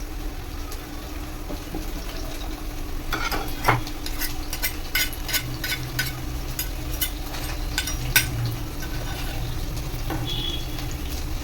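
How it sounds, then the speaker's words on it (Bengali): Chopped garlic and ginger fry together in hot oil, producing a continuous close sizzle with a burst of crackling spatters and stirring clicks in the middle; no one speaks. "প্রথমে দেবো রসুন আর আদা একটু কুচিয়ে রেখে দিয়েছিলাম, আমি এগুলো একসঙ্গে তেলের মধ্যে দিয়ে দেবো"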